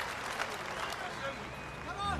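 Crowd applause at a World's Strongest Man strongman competition, a sustained wash of clapping from a large audience, with a commentator's voice running over it.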